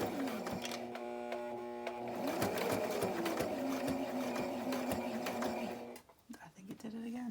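A sewing machine stitches a coffin-shaped pattern, running steadily for about six seconds in dense rapid pulses, then stopping abruptly. The machine is close and loud, and it skips stitches when run too fast.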